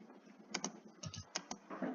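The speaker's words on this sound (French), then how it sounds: "Pourquoi il fait masse bruit tout le clavier?" Computer keyboard typing in a quiet room, with a handful of sharp key clacks arriving in small clusters, fairly close and alone.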